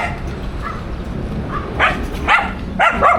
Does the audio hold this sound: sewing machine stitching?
no